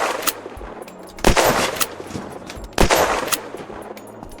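A bolt-action rifle fires in the Unturned video game, two sharp reports spaced about a second and a half apart, each followed by a brief mechanical cycling rattle.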